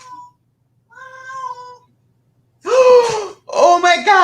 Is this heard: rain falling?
no